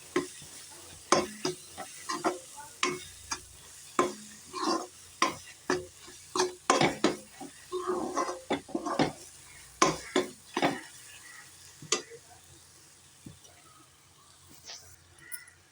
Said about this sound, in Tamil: இந்த மிளகாத்தூள் உள்ள பச்சை வாசனை போகிற வரைக்கும் நம்ம வதக்கலாம்.